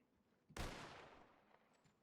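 A single rifle volley rings out at a Red Dead Redemption (RedM) western funeral, one sharp, booming shot that decays slowly over about a second against quiet surroundings.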